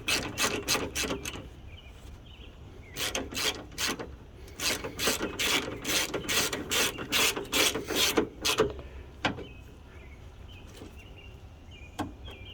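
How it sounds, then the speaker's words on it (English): A ratchet wrench tightens the radiator bolts on a 1998 GMC K1500. It clicks in quick, close bursts of rapid strokes, with short pauses between them, followed by quieter handling noises near the end. "I'm just going to line up the holes and tighten it down first anyways."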